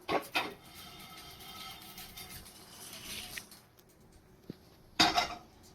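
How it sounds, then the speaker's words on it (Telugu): Roasted lentils poured from a pan into a bowl in a home kitchen, with metallic clatter and scraping at the start, a soft patter of small grains in between, and a louder clank of utensils near the end. "బౌల్లో పోసుకుందాం మొత్తం."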